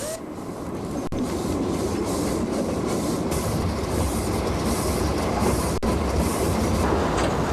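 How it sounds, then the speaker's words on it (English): Steady rumble of a steam saddle tank locomotive hauling passenger coaches along preserved rails, with rhythmic wheel clatter and a continuous heavy drone throughout, fairly close and loud. "Nowadays, the locomotive hauls passenger coaches along the 2 miles of track"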